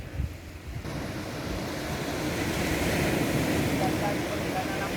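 Ocean surf breaks on Linon Beach in Aceh, a steady broad rush of waves rising after a brief quieter start, mixed with wind buffeting the microphone.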